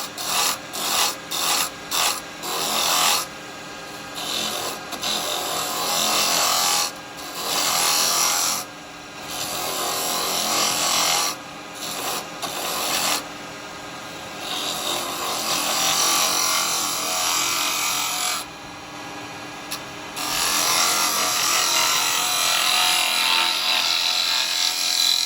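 A carbide woodturning tool shaves wood on a lathe, smoothing a rough piece of firewood: a continuous close rasping scrape broken by short gaps as the tool is lifted and reapplied.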